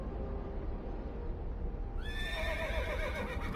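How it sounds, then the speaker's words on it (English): A horse whinnies in the Skyrim video game with the Lorerim modpack, a clear neigh that rises out of a steady low background rumble partway through and carries on with wavering, descending pitch to the end. "we get a little horse noise as well"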